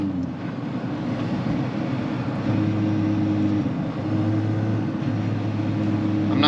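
The 2ZZ engine of a Toyota Matrix runs through a stainless exhaust and muffler, giving a steady, moderately loud low drone with slight pitch shifts and no voices over it.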